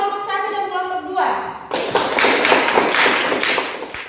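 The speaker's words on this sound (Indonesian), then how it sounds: "kita kasih tepuk tangan untuk kelompok 1 dan kelompok 2" Classroom students break into a burst of dense, sustained clapping for groups one and two, starting right after a teacher's voice and continuing loudly to the end.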